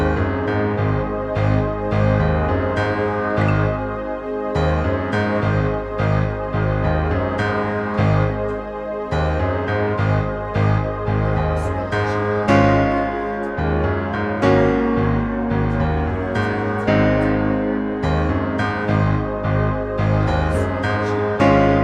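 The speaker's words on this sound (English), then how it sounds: "This is a layer with piano," A Yamaha CP88 stage piano plays a layered piano, strings and Rhodes patch: dense sustained chords with repeated struck notes over a full, continuous pad, steady and loud throughout with no voices.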